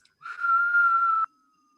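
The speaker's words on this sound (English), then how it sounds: "Can you whistle out" A close, steady whistle made by breathing out through pursed lips in a breathing exercise lasts about a second before cutting off sharply, with no talking.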